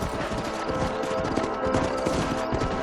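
Horse hooves clip-clopping in the video game Red Dead Redemption, a steady rhythmic clatter over an ambient game background, with no talk.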